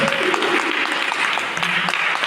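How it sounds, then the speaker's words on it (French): Brief burst of audience applause in a hall at a cultural community event, a dense steady clapping of many hands with a faint voice in the background. "Je veux que vous applaudissiez."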